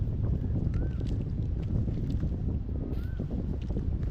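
Steady, loud wind buffeting the microphone outdoors on the coast during net fishing, a continuous low roar with gusts and no talking.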